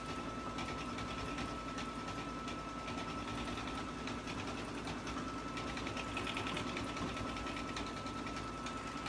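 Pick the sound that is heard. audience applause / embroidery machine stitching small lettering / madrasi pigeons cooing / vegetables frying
embroidery machine stitching small lettering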